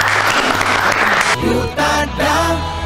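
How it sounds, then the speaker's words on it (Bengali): An audience at a college quiz and game show claps loudly for the competing teams. Dense applause fills the first half before giving way to a steady tonal musical sound. "জোরে হাততালি হবে।"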